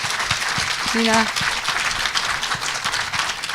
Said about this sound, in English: I would like to have a warm applause for the director of the film